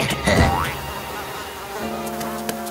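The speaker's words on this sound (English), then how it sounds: "More and more mosquitoes are coming!" A cartoon swarm of mosquitoes buzzes near and loud for a couple of seconds, a whining drone that rises and falls without speech.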